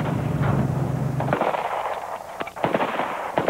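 Gunshots from a firearm at a shooting range, several sharp cracks in close succession fairly near, with a low rumble early on and a few more scattered shots later.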